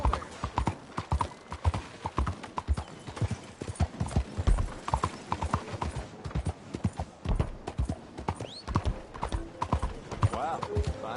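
Horse hooves in Red Dead Redemption 2 clip-clop in a steady, close rhythm throughout, with a brief whinny-like sound and some background effects.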